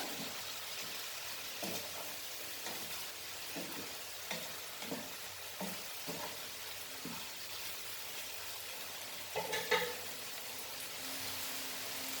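Noodles with oregano get stirred and mixed in a pan. A soft frying sizzle runs underneath a series of spaced, gentle scraping strokes, with a slightly busier burst of mixing near the end.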